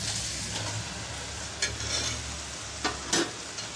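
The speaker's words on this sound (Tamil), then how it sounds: "பாருங்க சாதம் போட்டு இந்த மாதிரி நல்லா உதிரி உதிரியா நல்லா கலந்து விட்டுக்கணும்" Cooked rice being stirred into tomato masala in a pan, with a continuous soft sizzle and a few distinct spoon scrapes, louder near the end, and no one talking.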